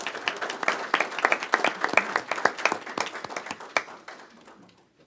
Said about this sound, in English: And then we'll have another round of applause.